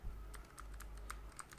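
Someone types on a computer keyboard, producing a quick, uneven run of close, soft key clicks over a low background hum.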